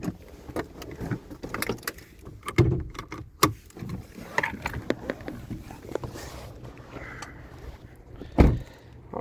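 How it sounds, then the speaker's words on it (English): A hood latch clunks and the bonnet of a 2017 Chevy Malibu lifts open among a series of sharp clicks, thumps and rattles from handling the car outdoors, with some quiet movement between the knocks. "Let's pop the hood in the engine bay."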